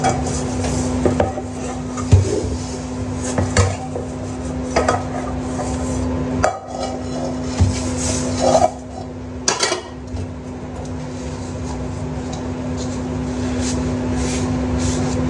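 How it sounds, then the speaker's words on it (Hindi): Dishes, pots and pans being washed under running water at a home sink, with steady clattering and scraping of metal utensils continuing throughout, close and fairly loud over a constant motor hum. "बर्तन धुलना पड़ रहा है"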